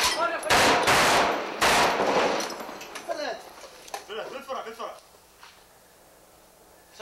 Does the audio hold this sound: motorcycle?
no